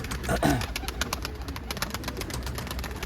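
Soft, low pigeon coos close by, repeating over a dense bed of chirps and rustling background noise.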